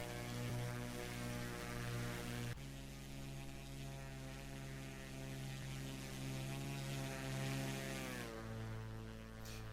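Carenado Cessna 210 piston engine with Simcoder's Realism Pack in the X-Plane flight simulator, a steady droning hum with strong harmonics that shifts pitch twice as the power setting changes, heard alone without talk.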